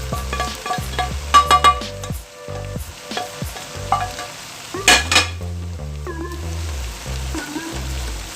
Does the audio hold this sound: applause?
no